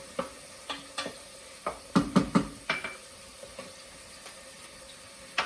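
A chopped Vidalia onion sautés in a pan while a utensil stirs it, producing irregular clicks and scrapes over a soft, quiet sizzle.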